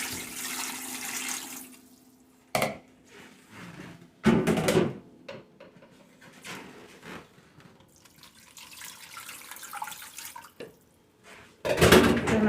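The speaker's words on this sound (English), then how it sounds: "Add a little water to it." Water runs from a tap into a pot for a crab boil in short intermittent bursts of splashing and pouring, separated by quiet gaps.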